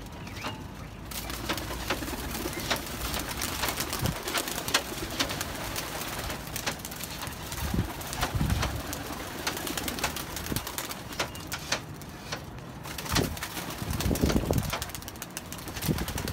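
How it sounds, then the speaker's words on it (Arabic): Pigeons coo repeatedly just after being let out of their loft, with soft intermittent calls and occasional fluttering and handling noises against a steady outdoor background. "انزل يا جدعان نفتح الحمامتين"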